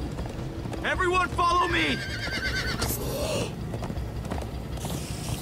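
Horses in the Minecraft Story Mode game, with clip-clopping hooves and a loud whinny near the start, heard under excited voices calling out.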